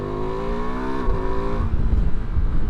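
A 2025 Ducati Multistrada V2 engine hums steadily under the rider, loud and close, then the pitch drops as the throttle eases and wind buffets the bike.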